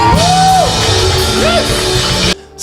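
A crowd at a gathering cheers and acclaims loudly, with yells and whoops rising over a dense roar of voices that cuts off abruptly near the end.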